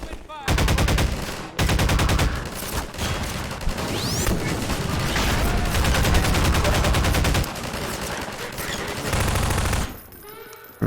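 Rapid automatic gunfire in the video game Half-Life 2 comes in long, loud bursts of closely spaced shots. The bursts have a few short pauses and some sharper crashes mixed in.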